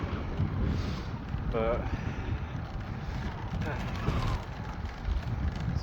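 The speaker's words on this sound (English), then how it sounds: "It's all headwind down here though" Headwind roars steadily into the microphone while riding a bicycle on an unfamiliar road, a dense low rumble throughout. Someone talks briefly over it.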